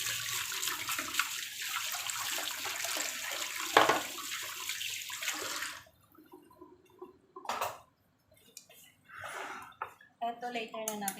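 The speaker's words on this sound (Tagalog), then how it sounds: "Hugas muna ako ng kamay." Running tap water while hands are washed in a home kitchen during soup cooking, a continuous close splashing rush that stops partway, followed by quieter handling sounds and brief speech.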